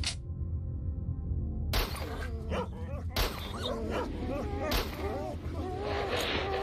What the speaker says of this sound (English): Pseudo dog right there.